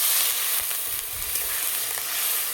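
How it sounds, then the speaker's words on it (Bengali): Potatoes cooked down with spices sizzle and hiss steadily in a pan as a little water goes in, a dense close frying crackle with no voices. "এবার জল দিয়ে দেবো।"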